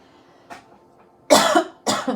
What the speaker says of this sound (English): Sorry, I apologize for the cough, you guys.